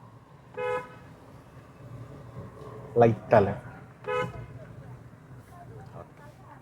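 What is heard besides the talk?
car horn honking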